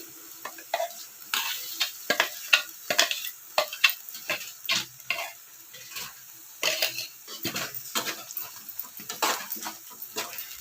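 Masala paste for paneer kurma sizzling in a pan while a spoon stirs and scrapes it, close irregular clinks and scrapes over a soft frying hiss, with no talking.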